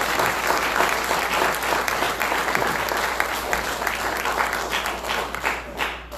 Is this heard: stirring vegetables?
no